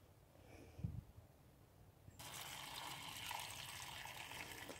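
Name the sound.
watering can pouring water onto plants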